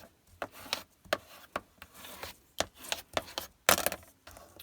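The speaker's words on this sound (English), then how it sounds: "So I'm going to burnish this tape down." Tape being burnished down onto a paper card gives a series of quiet, short rubbing strokes at an irregular rhythm, heard close.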